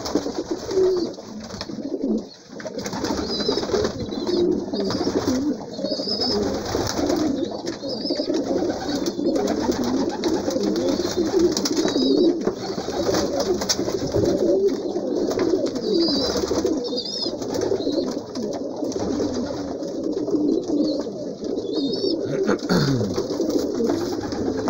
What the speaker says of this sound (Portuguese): Aí, Kenny, tá vendo a bagunça que esses pombos arrumam?